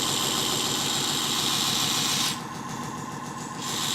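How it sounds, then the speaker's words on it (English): A Scotch-Brite wheel smooths a blacksmith's forged steel piece with a loud, steady abrasive whirring hum that dips briefly near the end, then returns. "But watch when I clean it up with the Scotch-Brite."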